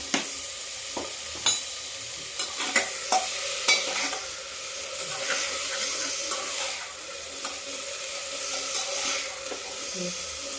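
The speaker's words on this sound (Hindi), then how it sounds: "आलू थोड़ा भून जाती है।" Potatoes sizzle steadily in a pan on a gas stove, loud and close, with scraping and stirring knocks at intervals and no talking.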